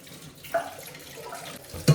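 Flattened rice (poha) is rinsed under running water in a sink, with a soft steady trickle and two sharper splashes or clinks as the grains are stirred, and no talking.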